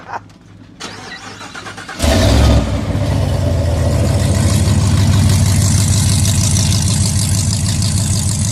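An off-road vehicle running a straight exhaust starts up loud and close after a quieter stretch with a low pulsing rumble, then settles into a steady, throaty idle that continues to the end.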